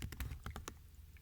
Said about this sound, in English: In Terminal, I want to type cd, which is current directory